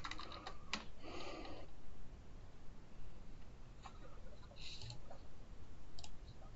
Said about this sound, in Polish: Klikamy przycisk utwórz.